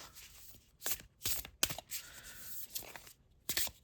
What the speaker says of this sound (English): Oh, they shuffle pretty smooth.